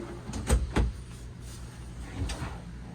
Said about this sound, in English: And they are the slow closing drawers too.